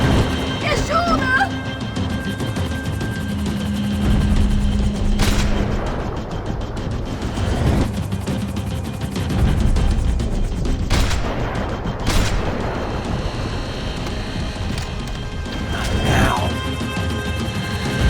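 Gunfire crackles through a Max Payne 3 chase sequence, with scattered bursts and loud cracks over a dense mix of engine roar, crashes and shouting voices throughout.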